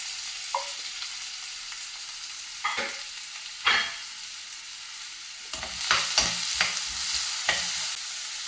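Grated coconut roasts and is stirred in a hot pan for chana masala, a steady close-up sizzle with scattered scraping strokes of a spoon that grow busier and louder in the last few seconds.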